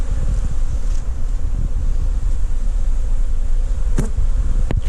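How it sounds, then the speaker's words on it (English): Honey bees swarm in and out of a hive on a small farm, a steady, dense buzzing close to the microphone with light wind noise and a couple of sharp clicks near the end. "The amount of bees going in and out of this hive right now."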